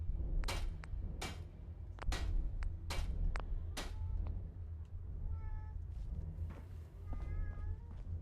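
A cat in the video game Fallout 4 London meows several times, short sharp calls spread across the scene, mixed with faint clicks and soft game ambience, with no talk.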